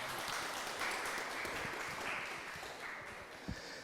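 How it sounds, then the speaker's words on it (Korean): Continuous applause from an audience at a youth week opening ceremony and talk concert in Daejeon, a dense even clapping wash that holds steady throughout. "박수 부탁드리겠습니다"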